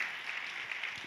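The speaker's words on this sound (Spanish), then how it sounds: "Fuerte ese aplauso a nuestro Dios." A church congregation applauding during a service, a short, soft patter of clapping heard at a distance.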